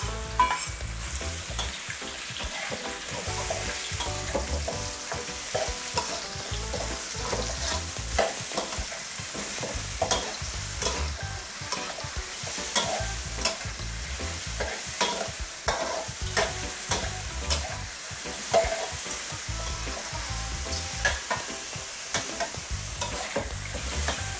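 Straw mushrooms and garlic stir-fried in a hot pan give a dense, steady sizzle, broken by frequent scrapes and clacks of the utensil, close and loud throughout with no voices.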